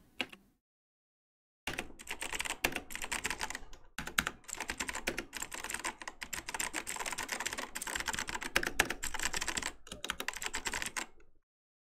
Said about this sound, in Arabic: نفسك في كيبورد ميكانيكال او كيبورد من اللي هي اللي صوتها عالي الحلوه دي